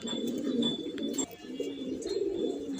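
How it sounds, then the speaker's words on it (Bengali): A male Sapchila pigeon coos close by, a soft, steady, throaty rolling call with a brief pause midway, alone without talk. "একদম ভালো একটা সাপচিলা কবুতর"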